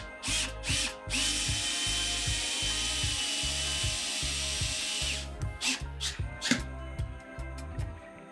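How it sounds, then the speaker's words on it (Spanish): A power drill drives a screw into a wall plug, whirring in a sustained loud burst after a couple of short starting pulses, then slowing into uneven stuttering bursts as the screw seats. "Le damos unas vueltas como para que agarre un poco de rosca y metemos con el taladro."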